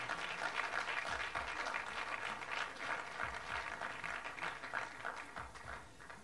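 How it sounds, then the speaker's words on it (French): Steady audience applause at an awards ceremony honouring Valérie Ayena and Dev Holding, fairly soft and distant, with continuous even clapping that holds for several seconds and tapers slightly at the close. "Je voudrais qu'on fasse beaucoup d'applaudissements pour Madame Valérie Ayena et la société Dev Holding."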